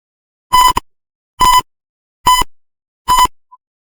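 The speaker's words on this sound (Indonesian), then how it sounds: "maka alarm akan berbunyi" A simulated smoke sensor alarm in a Tinkercad Arduino simulation beeps four times, each a short, clean electronic tone at a steady, evenly spaced rhythm, close and clear with silence between.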